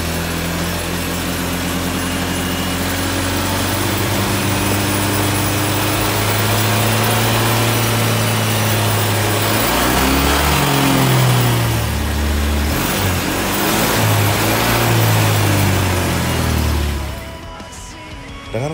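A Honda Vario 125 LED scooter climbs uphill, its small engine droning loud and close with a steady hum that rises and wavers in pitch as it pulls, then fades near the end.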